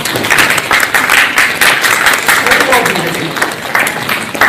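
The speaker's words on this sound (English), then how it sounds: "Give yourselves a round of applause." Students at a school give themselves a round of applause, a dense wash of many hands clapping steadily and fairly loud throughout, with voices mixed in beneath.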